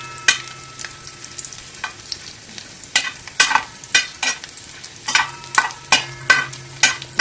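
Raisins frying in plenty of ghee for semiya dessert, with a steady low sizzle broken by repeated sharp scraping stirs of a spoon against the pan, close and clear, no voices.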